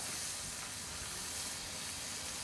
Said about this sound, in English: in this pan, I'm gonna start sauteing some of this meat